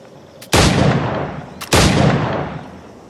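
Two loud, booming flintlock firearm shots from Assassin's Creed Black Flag, about a second apart, each a sharp blast followed by a long rolling decay.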